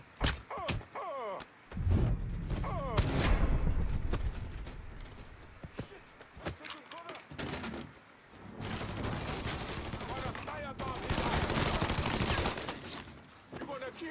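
Bursts of rapid gunfire and scattered shots ring out in a Mafia 3 shootout, mixed with groans, shouting voices and action sounds, loud and busy throughout.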